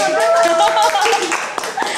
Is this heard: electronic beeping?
no